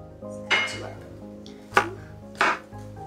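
A knife chops through an onion on a cutting board, three distinct crisp thuds spaced roughly a second apart, close and clear with no talking.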